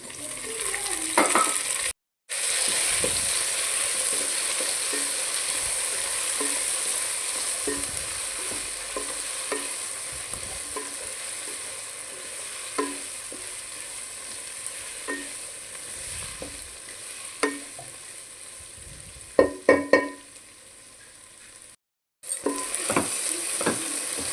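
Tomatoes sizzle in a pan for a cucumber curry, a steady close frying hiss with light stirring clinks and a few louder scraping knocks, cut by two short silent gaps.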